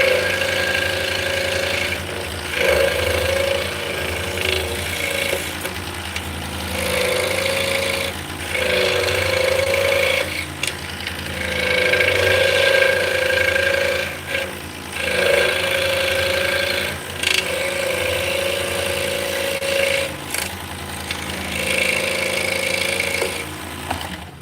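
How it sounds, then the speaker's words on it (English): A scroll saw cutting wood, its motor humming with a steady rapid buzz of the reciprocating blade, loud and close, cycling on and off in repeated cutting passes with brief pauses between. "scroll saws are good for very sharp corners, very delicate stuff"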